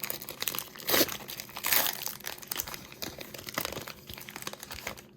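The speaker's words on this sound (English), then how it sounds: "I'm going to start peeling it from the top." Crinkly plastic wrapper of a football trading card pack being peeled open from the top, close and fairly quiet, with a steady stream of crackles and a few sharper tearing bursts.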